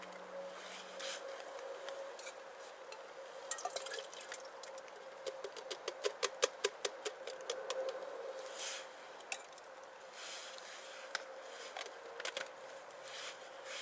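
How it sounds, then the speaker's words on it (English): Fish chowder being poured into a pot over a Sterno stove outdoors on a wet day, a soft liquid pour with a run of quick dripping taps in the middle, no talk. "now just pour in my chowder."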